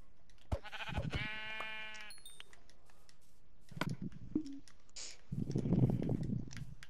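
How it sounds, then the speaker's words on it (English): A sheep in the video game Minecraft bleats once, a clear wavering cry near the start, followed by quieter clicks and rustling game sounds. "Where's this freaking sheep?"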